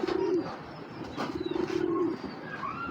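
A female Giribaz high-flyer pigeon coos softly in a few short, low notes, close by and fairly faint, with light bird chirps in the background.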